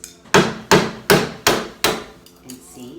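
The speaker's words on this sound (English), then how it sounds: "in order to chisel it out, I'm literally gonna use a screwdriver and a hammer" A hammer strikes a screwdriver used as a chisel to cut into an old wooden door, five loud evenly spaced sharp knocks, each with a short ring, followed by a faint scrape.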